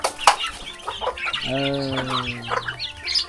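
Chickens cluck among a large flock of village fowl and a rooster, with a clucking run near and loud, then a long harmonic crowing call in the middle, kept at a Lao Ta Oi tribal village.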